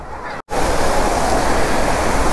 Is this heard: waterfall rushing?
yes